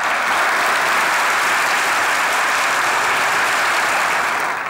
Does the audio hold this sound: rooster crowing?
no